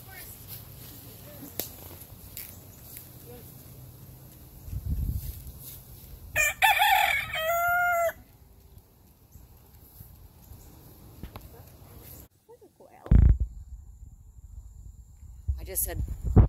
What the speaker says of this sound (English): Just found a rooster.